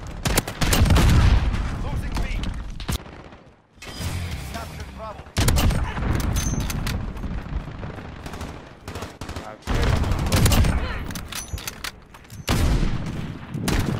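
Gunfire from sniper rifles in Modern Warfare gameplay: loud, sharp shots in repeated bursts with echoing tails and short quiet gaps between them.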